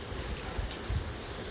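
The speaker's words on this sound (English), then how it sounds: "I don't know if you heard the rain in the background," Steady rain pours down during a Miami thunderstorm, a dense, even hiss of drops with faint low rumbling beneath, heard alone for a brief moment.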